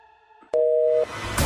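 A single loud electronic busy tone sounds for about half a second after a soft click, followed by rising noise.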